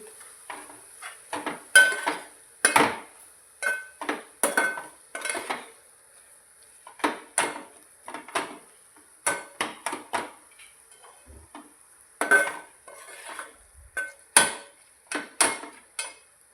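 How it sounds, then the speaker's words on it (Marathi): Coriander powder being stirred into a mushroom curry in a pan: a spoon knocks and scrapes against the metal pan in repeated close, sharp strokes with short gaps, with no talk over it. "धना पावडर हलवायचं व्यवस्थित"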